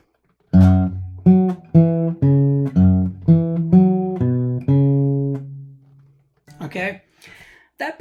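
Electric guitar picking a slow minor pentatonic lick in the low register, about eight sustained single notes in a loose rhythm, played alone and close before a brief burst of talk at the end.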